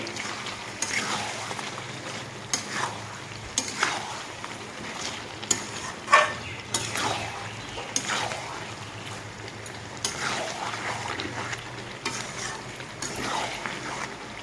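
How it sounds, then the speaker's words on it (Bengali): Mutton and potato pieces sauté in a pan with turmeric, giving a soft sizzle with repeated scraping and stirring knocks spread across the whole stretch, moderately close and fairly quiet. "তো মাংসের সাথে আলুটাকে আমি কষিয়ে নেব"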